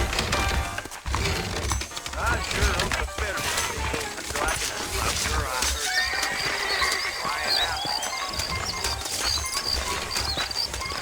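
Saddled horses in the video game Red Dead Redemption whinny and snort amid clopping hooves and a busy outdoor bustle, with people talking in the background throughout.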